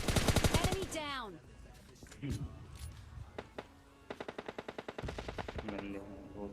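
Automatic gunfire in a shooter video game, with fast bursts of shots near the start and again toward the end, separated by scattered single shots and game effects, while someone talks over the action.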